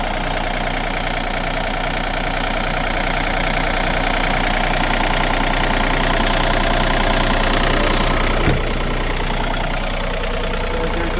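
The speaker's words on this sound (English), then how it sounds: "There's the motor running." A CFG KU45 motor idles steadily and loudly at close range, a constant rumbling drone with one brief click near the end and no talking.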